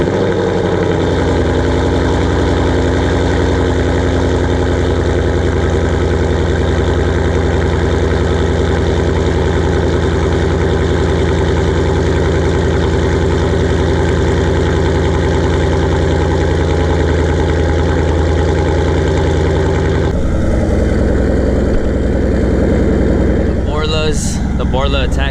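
A 2016 Ford Mustang GT with a Borla Attack exhaust idles close by with a steady, deep rumble throughout, with a brief change in tone near the end.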